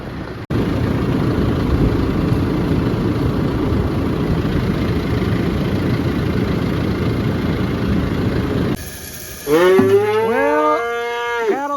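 A pot load of newly bought cattle moo loudly in a series of long, drawn-out calls near the end, after a steady stretch of low engine idling.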